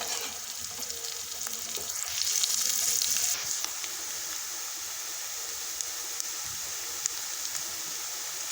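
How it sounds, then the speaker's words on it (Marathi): Onion fries until golden in hot oil with a steady, close sizzle. A louder burst of frying comes midway, and occasional light stirring clicks sound over it. "मस्तपैकी कांदा आपण गोल्डन वर भाजून घेऊ"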